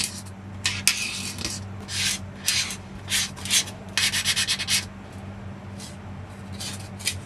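Craft foam is smoothed by rubbing it with the back end of a needle, making soft scraping and rasping strokes in short irregular bursts, close and fairly quiet over a low steady hum.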